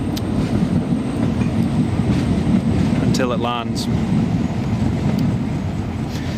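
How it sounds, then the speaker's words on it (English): A Newcastle metro train runs in the background beside the airport runway, a continuous loud rumbling roar with a brief squeal partway through, while someone speaks a few words over it. "the noise that you can hear in the background is the metro line"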